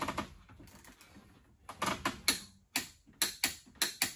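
A torque wrench clicks while tightening a fitting on an S&B fuel tank installed on a Dodge Ram 3500, torqued to 22.5: sparse sharp clicks at first, then a quick run of crisp, close clicks.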